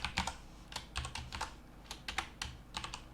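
Keys clatter on a computer keyboard in quick irregular bursts of clicks, close and fairly quiet, with no voices over them.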